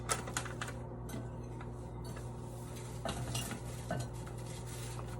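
A mixture being whisked in a bowl at home, a steady soft scraping and clinking churn that runs throughout, quiet and close with faint kitchen hum beneath.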